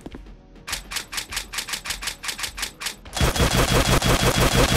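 Automatic shotgun fire in the video game Maximum Action: a steady run of evenly spaced sharp blasts, then a louder, denser burst of rapid shots that fills the last stretch.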